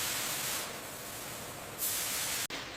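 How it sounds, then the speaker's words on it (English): Steam blasting into empty cosmetic cream bottles on a factory cleaning line, a loud continuous hiss that swells briefly near the end and cuts out for an instant before resuming. "Thoroughly cleaned using steam to meet strict hygiene standards."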